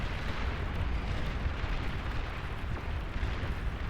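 Dense, rumbling explosion of a long-range plasma cannon being destroyed in the strategy game Beyond All Reason, with a sustained low roar and crackle running steadily through the whole stretch, loud and alone.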